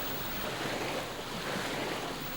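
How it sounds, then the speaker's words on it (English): A deep water plunging breaker, an unusually steep wave, collapses in an indoor wave tank, heard as a steady rushing wash of water without voices. "This is a deep water plunging breaker, a wave of unusual steepness."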